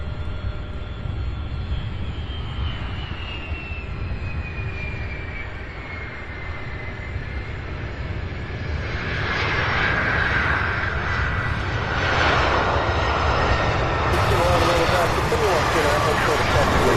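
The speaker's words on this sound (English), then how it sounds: "UPS 616 heavy. All right, A300 from Albuquerque. Our next arrival here on 17 right." A UPS Airbus A300 heavy jet arrives on runway 17 right, its engine roar swelling from a distant whine to a broad rumble, heard from outside at the airport.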